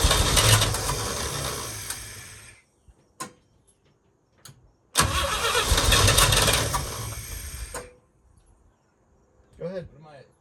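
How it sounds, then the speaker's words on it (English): A 1966 International Harvester 1100A pickup with a BG 241 engine, entombed for 24 years, cranks loudly in two long bursts of rapid, rhythmic starter churning separated by a short pause, with a brief voice near the end. "As soon as it cranks, as soon as you hear it fire, let off the key."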